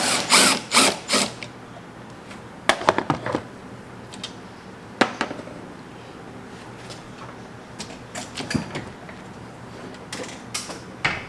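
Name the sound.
loosening 13 mm strut bolts on Camaro, ratchet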